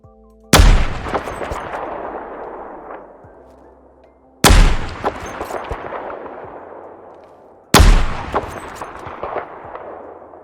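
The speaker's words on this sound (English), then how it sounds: "So let's go ahead and have a look and listen to firing and reloading." An M200 Intervention sniper rifle in a Fallout 4 mod fires three loud, sharp shots several seconds apart. Each crack decays into a long echoing tail, and faint mechanical reloading clatter sits between the shots.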